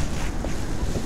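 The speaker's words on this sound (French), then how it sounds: "Il y a beaucoup de vent." Strong outdoor wind buffeting a microphone, a dense low rumbling roar with gusty fluctuations filling the whole moment, loud and close with no talk.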